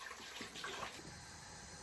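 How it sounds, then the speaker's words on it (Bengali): Liquid from a boiling pot of rasmalai is poured into another cooking pot, giving a steady, soft gushing wash of water that continues unbroken throughout the short moment. "অন্য একটা পাতিলে আমি ঢেলে দিব।"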